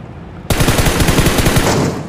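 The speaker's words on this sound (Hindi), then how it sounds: "कर दिया फाइनली फायर" Rapid automatic gunfire bursts out suddenly after a quiet half-second and continues as a dense, loud rattling volley during a video game tournament match.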